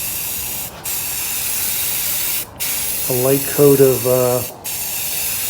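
Self-etching primer sprays from an aerosol can onto a rusty Jeep in long, close hissing bursts with brief pauses between them. Someone speaks briefly over one of the bursts.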